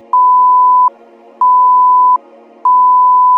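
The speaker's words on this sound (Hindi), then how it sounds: "अब्दुल्लाह सलाह टाइम इंडिकेटर में अजान, जमात और मकरू वक्त के शुरू में एक बजर की आवाज़ आती है।" Three loud, long electronic buzzer tones from a prayer time indicator, each under a second, evenly spaced with short silent gaps between them.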